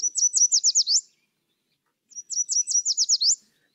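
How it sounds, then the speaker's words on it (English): Yellow warbler song, two clear repetitions of a bright, high, sweet phrase of rapid slurred notes that quickens toward the end, close and isolated against silence. "Let us use the yellow warbler as an example of vocal quality."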